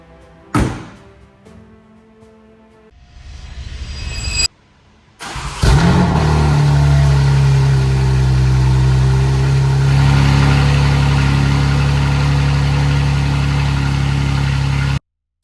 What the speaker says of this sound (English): This M3 sounds absolutely insane.